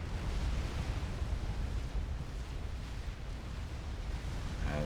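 A nuclear explosion in the strategy game Supreme Commander, during a custom 7v7 match, gives a sustained, dense, rumbling roar that stays loud and steady from start to finish, with no voices over it.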